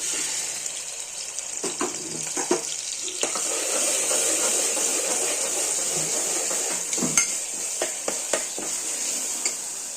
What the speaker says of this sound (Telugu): ఆయిల్ వేడెక్కింది కదండి ఇప్పుడు ఆనియన్స్ వేస్తున్నాను